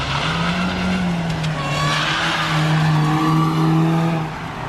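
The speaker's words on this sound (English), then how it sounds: "You can definitely hear the supercharger on that little thing" Supercharged Mini driving past, a loud, close engine with a steady high-pitched supercharger whine that rises and falls as the car goes by.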